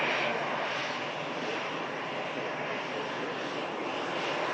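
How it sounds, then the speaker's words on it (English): An Icelandair Boeing 737 MAX touching down at Manchester Airport in stormy conditions, a loud, sustained jet engine roar close by that holds steady throughout without any voices. "Capture the Ice Max touchdown."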